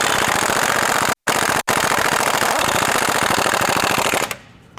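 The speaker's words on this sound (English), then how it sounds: "Now you can grab your 21 millimeter and take off the two nuts over here." Impact wrench removing two nuts with a 21 mm socket on a 2020+ GM 2500 pickup during a lift kit install, a loud rapid hammering burst with two brief breaks, then trailing off.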